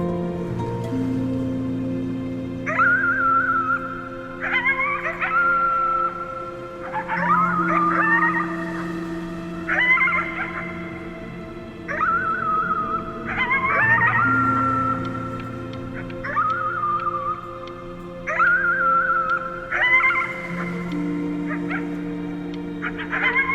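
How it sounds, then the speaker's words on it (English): Repeated rising wavering howls at the moon from the video game Before Your Eyes, sounding in a steady series of long cries over a sustained low musical drone, fairly loud and close. "You howled at the moon, at the top of your lungs."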